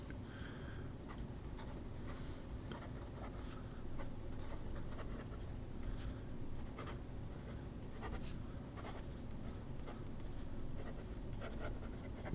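An ink pen writing on smooth, slightly coated Life paper, a soft continuous scratching with quick strokes and small ticks of the nib, faint and close over a low steady background hum, with no speech.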